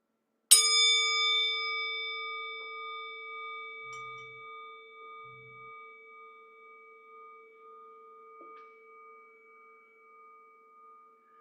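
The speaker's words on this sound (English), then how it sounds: "I'm going to ring the bell." A bell is struck once at an outdoor labyrinth walk, giving a bright metallic strike followed by a long, clear ringing tone that slowly decays over many seconds with faint sounds around it.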